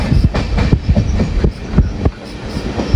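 Antyodaya Express running from Mangaluru toward Kochuveli, heard from inside a general coach: a steady, loud rumble with rhythmic clickety-clack of wheels over rail joints and no talking.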